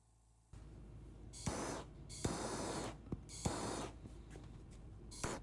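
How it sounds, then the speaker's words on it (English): Spray shellac hissing onto white oak in a woodshop, three long bursts of several seconds each and a short one at the end, close and steady, with no talking. "I used 2 coats of spray shellac."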